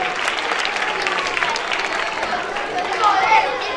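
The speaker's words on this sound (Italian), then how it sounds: "Ascoltiamo un cenno d'applauso" Audience applause at the opening evening of the Riviera dei Cedri Cup tournament in Scalea, Calabria: dense, steady clapping from a crowd throughout, swelling slightly louder near the end.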